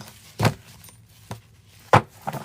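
A deck of tarot cards being quickly shuffled, three short crisp riffling bursts separated by pauses, close and alone with no talking.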